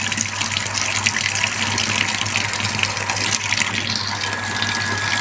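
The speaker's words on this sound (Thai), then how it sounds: "เซนเซอร์ได้ทำการปล่อยน้ำ เรียบร้อยแล้วนะครับ" A Samsung washing machine with an IE error drains water in a steady, loud gush over a low mechanical hum, continuous and unbroken with no talking.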